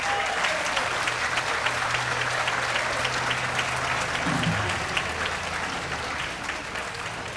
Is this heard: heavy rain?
no